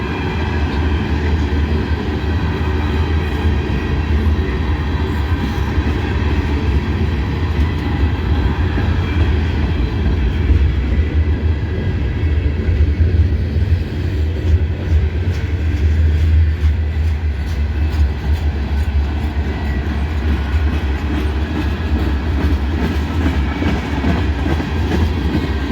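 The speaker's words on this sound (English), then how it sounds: "All these empty cars on this train." A long freight train of empty cars rolls past continuously with a deep steady rumble and repetitive clickety-clack of wheels, loud and close throughout.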